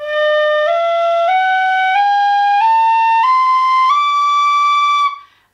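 A tin whistle plays a clear, pure rising scale of sustained notes, each held about half a second in even steps, close and loud, ending with a short release and no speech.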